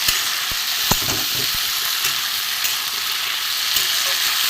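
Vegetarian chorchori of flat beans (botboti), potato and half a tomato frying in a pan, a steady close hiss broken by occasional scrapes and taps of a stirring spoon.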